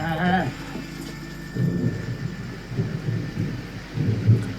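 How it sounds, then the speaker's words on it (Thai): In a Thai TV drama scene, steady rain falls while deep thunder rumbles in swelling waves. A brief voice is heard at the very start. "เฮ้ยฝนตกอยู่"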